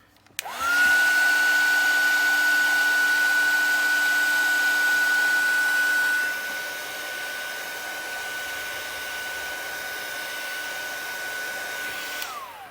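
Electric heat tool blowing hot air to set StazOn ink stamped on metal and plastic, a loud steady whirring blast with a whine that drops to a lower setting partway through, then cuts off near the end.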